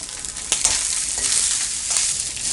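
Cooked rice for lemon rice is tossed and stirred in a frying pan, producing a steady hissing fry with soft scraping and a couple of sharper utensil knocks, close and without talk.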